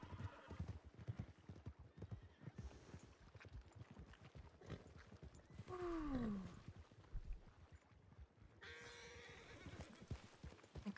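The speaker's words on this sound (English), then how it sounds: "Oh my god, this is a lot of wild horses." Several wild horses in a WildRP western game whinny loudly and clearly, with a clip-clop of hooves sounding alongside and a roaring animal cry mixed in.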